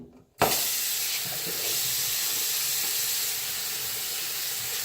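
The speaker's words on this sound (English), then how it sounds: "rinse off my hands, and then I actually go back in with my wet hands to suds my face up" Tap water runs steadily into a bathroom sink as hands are rinsed during a face wash, a close, even hiss of flowing water that starts abruptly and continues alone without talk.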